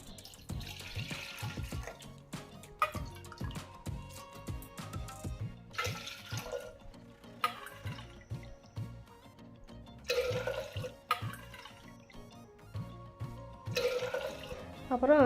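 Water splashes and pours into a pot in several short bursts for ragi porridge, interrupted by clinks and knocks of handling, close by and moderately loud.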